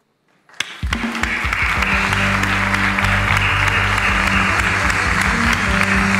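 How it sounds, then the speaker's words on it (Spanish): A studio audience at a live comedy talk show bursts into applause after a brief quiet moment, the clapping loud and sustained with music playing steadily underneath. "Hay unos que aplauden y hay otros..."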